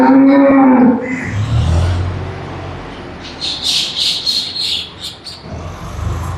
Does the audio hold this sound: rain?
no